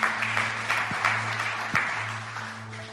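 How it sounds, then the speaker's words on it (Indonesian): Church congregation applauding during a sermon, with a burst of clapping that rises and fades over a sustained musical drone, fairly soft and somewhat distant. "Kasih tepuk tangan dulu buat Tuhan"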